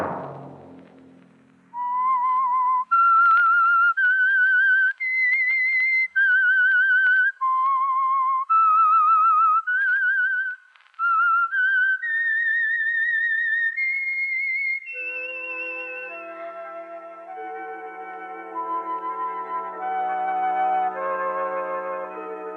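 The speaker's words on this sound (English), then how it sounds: "Let that whistle be your signal" A clear whistled signal tune of stepped notes plays alone, climbing gradually, then gives way to soft sustained orchestral tones, on an old-time radio broadcast.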